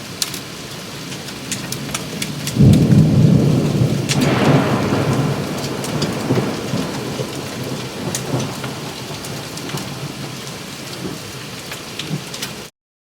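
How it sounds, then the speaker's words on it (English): A violent storm pours rain with marble-sized hail and a loud crack of thunder rolling near, then a steady heavy downpour drumming on surfaces throughout, with no voices. "Now there's hail coming down the size of marbles."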